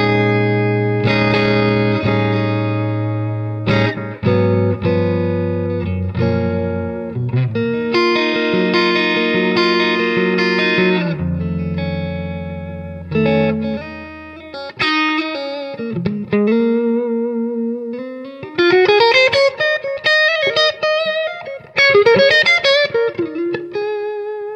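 Electric guitar played straight through a Fender Super Reverb amp with a delay pedal, sustained chords and single-note lines trailing audible echo repeats, loud and close with no talking.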